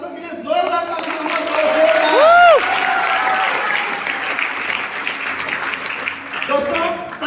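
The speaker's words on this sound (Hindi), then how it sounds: "वास्तविक प्रदर्शन के लिए जोरदार तालियां" Loud, sustained applause from an audience at a business success-story event in Raipur fills the whole stretch, steady and dense, with a brief rising-and-falling whistle-like tone cutting through near the middle.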